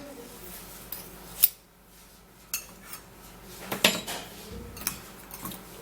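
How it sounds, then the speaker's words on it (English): A mixture of Colgate toothpaste is stirred in a container with a utensil. The quiet scene carries sparse, sharp clinks and short scrapes against the sides, separated by brief pauses. "after you put in the paste, you're going to just give it a little stir"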